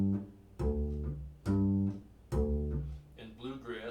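Plucked pizzicato double bass playing a country two-beat pattern, with deep, resonant notes landing in an even, loping alternation that rings out alone and close.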